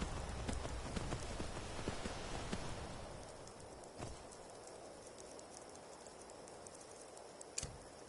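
Horse hooves clip-clop at a steady rhythm while riding in Skyrim, strong at first and then fading quieter, with faint rain-like hiss beneath.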